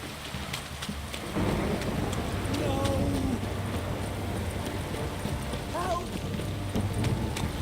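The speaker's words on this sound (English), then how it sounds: "This downpour's a bastard, it is." Steady heavy rain pours throughout in The Witcher 3 video game, with a low rumble of thunder underneath and brief voice-like tones breaking through in a couple of moments.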